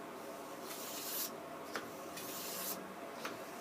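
A woodworking gouge is drawn repeatedly across abrasive paper while being sharpened, making steady, hissing rasps in long strokes broken by small clicks at each turn, close and fairly soft.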